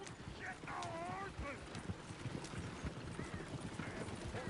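Horse hooves clip-clopping in the video game Red Dead Redemption 2, a steady run of quick hoofbeats with a brief whinny and some game voices over it.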